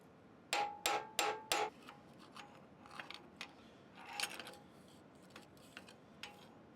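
A hand hammer rivets a steel cover plate onto a forged blacksmith door latch, with four sharp ringing blows close together, then a series of lighter, irregular taps.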